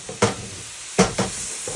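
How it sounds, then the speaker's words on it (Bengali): Chopped banana flower frying with spices in a pan, with a few sharp scraping stirs over a low, steady sizzle. "কিছুক্ষণ ভাজা ভাজা করব।"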